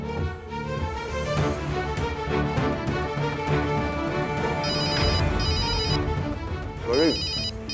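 A telephone ringtone repeats in short electronic bursts from a phone in a Hindi family drama scene, sounding over background music and people talking.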